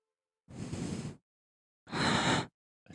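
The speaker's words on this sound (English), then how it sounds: "We talked about the noises, the breathing in the mic" Two loud breaths blow straight into a microphone, close and harsh, each lasting over half a second with silence between, followed by the start of a third.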